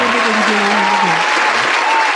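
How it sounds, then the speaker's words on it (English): Steady crowd applause on a podcast set, a dense wash of clapping running throughout, with a voice speaking and tonal sounds faintly underneath. "We gonna clap it up in real life"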